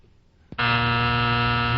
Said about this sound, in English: Hit the buzzer and move on.